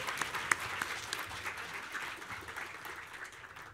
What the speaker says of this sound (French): On peut l'applaudir, je pense.